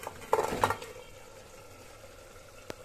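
Potatoes go into a cooking pot of chicken kosha with a couple of close metallic clanks and clatter, then a quiet low simmer and one last sharp tap.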